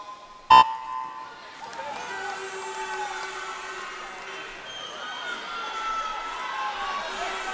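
Spectators cheer and shout encouragement at a county swimming championships during a 10 to 11-year-old 100-meter breaststroke final, opening with a sharp start signal, then a steady, moderately distant crowd din in a reverberant pool hall.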